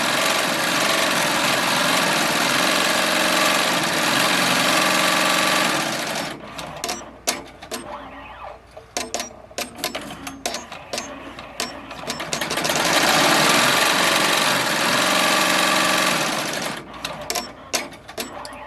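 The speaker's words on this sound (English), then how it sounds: "I love watching this thing embroider." A Bernina E16 Pro 16-needle embroidery machine stitches at speed, a loud continuous high-pitched whir that pauses into clattering mechanical clicks and thumps before the fast running resumes.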